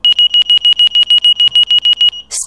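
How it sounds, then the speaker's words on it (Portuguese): A repeating stall warning alarm sounds in an Embraer Phenom 100 cockpit in X-Plane 11: about seventeen loud, evenly spaced high beeps in quick succession, followed by a short burst of noise as they stop. "vamos testar os alarmes aqui."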